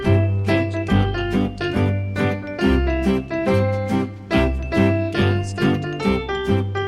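Piano playing the children's tune Buffalo Gals at full speed, with a bouncy melody over steady low bass notes in a continuous, loud phrase of several bars with no talking.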